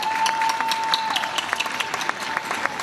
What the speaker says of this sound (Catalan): Per favor, un aplaudiment per a ells.